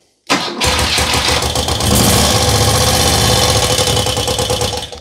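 A motorcycle engine without a kick starter, spun over by the alternator during a final tuning test, catches abruptly after brief silence and keeps running loud and close with a steady, slightly rising drone.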